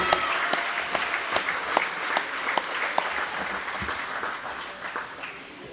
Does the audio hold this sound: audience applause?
yes